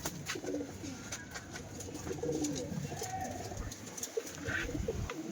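Pigeons coo softly nearby in a loft of pet birds, with repeated low, rolling calls and light rustling between them.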